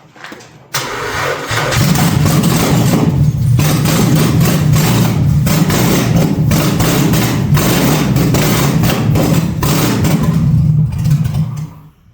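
A car engine is started for the first time after new headers were fitted. It cranks, catches with a loud burst and settles into a rough, throbbing idle close by, with small blips of throttle.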